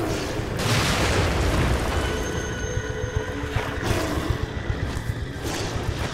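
A grenade blast in the horror video game The Evil Within, a loud booming roar that swells at once and rumbles on with lingering rolling noise, close and dominant with no talking.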